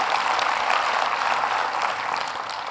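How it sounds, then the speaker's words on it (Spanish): Church congregation applauding steadily during a sermon, a dense, even wash of clapping that holds at full strength throughout with a slight dip near the end. "Des un aplauso al Señor."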